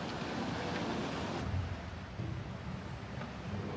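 Tsunami torrent flooding a coastal town in Japan, a dense, continuous roar of rushing water with wind noise, loud and steady throughout without any voices.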